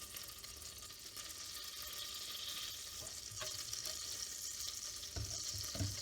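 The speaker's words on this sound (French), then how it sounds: "j'entends mon beurre qui grésille" Butter sizzles and foams in a pan while Ghent-style waterzooi is being cooked, giving a steady, close crackling hiss with a few soft knocks toward the end.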